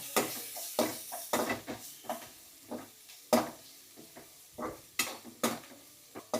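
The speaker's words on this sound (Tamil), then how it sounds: "வெங்காயம் பச்சை மிளகாய் ஆட் பண்ணியிருக்கோம் இப்போ நல்லா கிண்டி விட்டுங்க" Onion and green chilli being stirred in a pan for aloo paratha, rhythmic scraping strokes of a spoon against the metal with a light sizzle beneath, close and fairly quiet.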